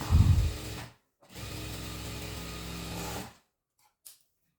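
A sewing machine stitches the hem of a crop top in two close bursts of rapid mechanical whirring, separated by a short pause, followed by a faint click.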